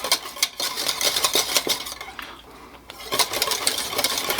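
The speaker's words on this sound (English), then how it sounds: "this is boiling here, so we're going to keep stirring it and let it boil for about 1 minute" Boiling coconut cream pie filling is stirred in a pot, with quick, repeated metallic scrapes and clinks of the utensil against the pot that stop briefly and then start again.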